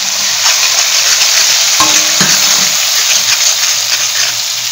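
A mustard-poppy and ginger-garlic-chili paste poured into frying onions for a pabda fish curry, a loud bright sizzle surging briefly as it hits the hot oil, followed by a pan clink and steady frying.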